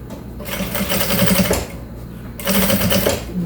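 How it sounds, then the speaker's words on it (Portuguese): A sewing machine stitches a fabric bag in two bursts of fast, buzzing needle rattle separated by a short, quieter pause, loud and close. "Venho costurando até aqui no final."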